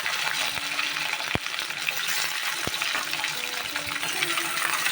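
Potatoes and pointed gourd fry in hot mustard oil with cumin seeds and dried red chillies, giving a steady broadband sizzle with a few sharp clinks of a utensil against the pan.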